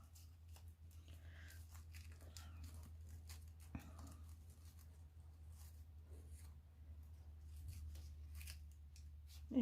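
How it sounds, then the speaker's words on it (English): Scissors make soft, quiet snips trimming the tails of a knotted ribbon on a handmade blackberry card, a few faint cuts over a low steady hum. "Just get another piece of ribbon, tie a knot and trim the tails."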